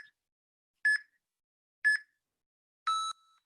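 Three short electronic beeps from a workout interval timer sound about one second apart, the last one longer and lower, in a quiet room with no talking.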